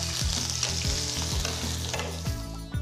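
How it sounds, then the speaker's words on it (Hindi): Garlic, ginger and chilli fry in hot oil in a pan, a steady loud sizzle with rhythmic stirring scrapes, close and with no talking. "इन्हें फ्राई करने के लिए बर्तन में तेल डालते हैं, इसमें लहसुन डाल देते हैं"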